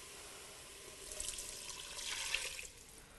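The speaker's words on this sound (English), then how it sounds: "And now you add 500 mils of cold water." Cold tap water pours into a cooking pan, a steady hissing splash that swells midway and peaks near the end before tapering off, close and moderately loud with no talking.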